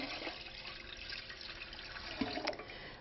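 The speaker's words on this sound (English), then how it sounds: "center your empty canner on the heat source and add 2 to 3 inches of water." Water runs steadily into an empty canner set on a heat source, a continuous splashing pour with a couple of brief clinks near the end.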